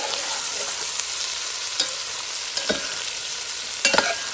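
Onions frying in a pan give a loud, continuous bright sizzle, broken by a few soft scraping stirs, with no talk over it.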